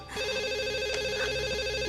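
A telephone rings steadily and loudly throughout a tense indoor drama scene, its repeating electronic trill continuous for about two seconds with no talk over it.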